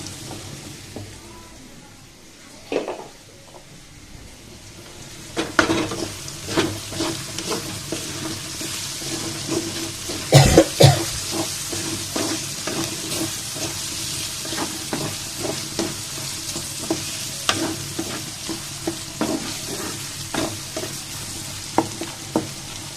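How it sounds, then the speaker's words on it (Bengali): Potatoes and okra fry in a pan with a steady close sizzle, broken by repeated scraping stirs and a sharp burst of crackle around the middle, with no talk. "এখন আলুগুলো লাল লাল করে ভাজা হয়ে"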